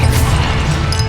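Fiery spell blasts from Confringo and Incendio in the game Hogwarts Legacy: a dense, continuous roar of crackling bursts and low rumbling booms, loud and close throughout.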